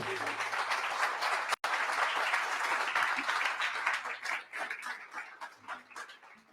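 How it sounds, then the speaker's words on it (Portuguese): A church congregation applauds during a sermon, with steady dense clapping that grows patchier and more uneven toward the end, a brief dropout near the start, and faint voices under it. "Dê um aplauso a Jesus, aleluia."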